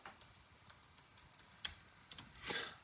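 Typing on a computer keyboard, a run of quick, uneven key clicks with a few louder taps near the end, fairly close and alone with no talk.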